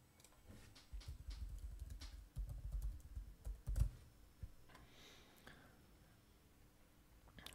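Typing an email address on a computer keyboard: a steady, close run of soft key clicks with a few louder taps, fading to sparse, quieter presses toward the end, with no talking.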